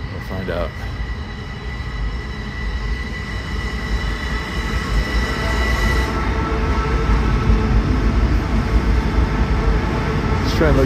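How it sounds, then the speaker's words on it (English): A Long Island Rail Road train pulls into a platform at Grand Central, a loud, steady rumble of wheels and motors that builds gradually, with some faint talk underneath. "This train looks like it's coming in from the yard."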